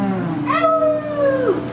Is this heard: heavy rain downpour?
no